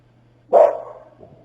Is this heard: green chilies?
no